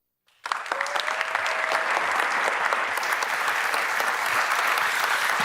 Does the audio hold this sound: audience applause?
yes